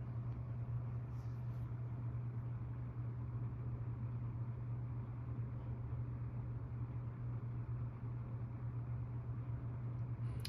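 Wells Royal C-122 electric fan running on high, a faint, steady, even whirring hum with a constant low tone, no talking.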